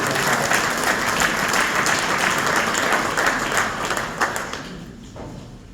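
A large audience at a presidential speech in Guyana applauds in steady, dense clapping that holds strong for several seconds, then thins and fades toward the end.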